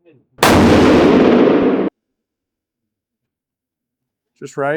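A Weatherby 307 rifle fires a single Hornady Precision Hunter 175 grain ELD-X round, one loud close blast with a short decay, followed by brief speech.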